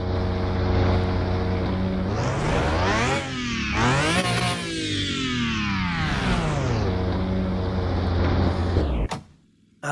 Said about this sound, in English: listen to how high the idle is